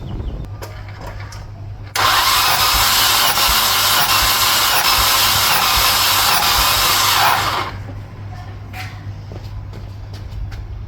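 A Nissan QG18DE 1.8-litre engine from a 2003 Pulsar/Sentra cranks on the starter during a compression test: a loud, close, steady whirring run lasting about six seconds that then cuts off, with quieter background before and after.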